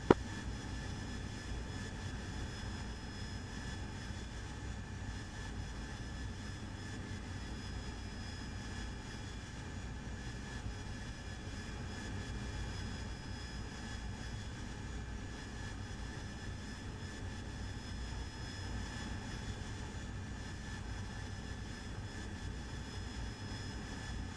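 Steady, even aircraft engine drone on a landing approach, heard from inside as a constant broadband rumble with a faint high whine, unchanging and moderately quiet throughout.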